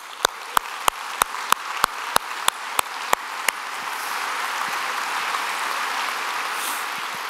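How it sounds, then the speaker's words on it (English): A dozen sharp, evenly spaced claps ring out, then a crowd's sustained applause continues as a steady wash of sound. "Just another round of applause for Brian and Scott as well."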